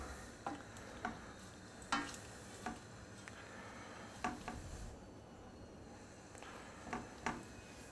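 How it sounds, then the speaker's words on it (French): Spoon scraping and stirring tomatoes with onions, thyme, bay leaf and a splash of water in a pot, soft irregular knocks against the pot over a low simmering hiss, no voices. "Vous mélangez un petit peu"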